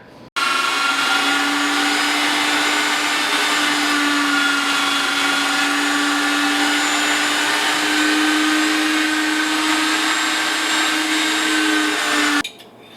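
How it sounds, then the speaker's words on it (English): An electric meat grinder works through lean beef, giving a loud, steady motorized whir that holds constant for about twelve seconds before cutting off abruptly. "Head to the grinder."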